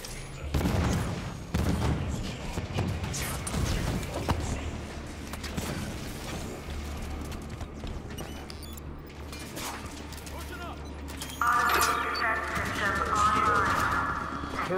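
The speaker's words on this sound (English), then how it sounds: "Turrets on and firing." Turrets fire in Halo 5: Guardians, a dense run of rapid gunfire and booming shots that rolls on steadily for the whole stretch, rising into a brighter, harsher burst toward the end.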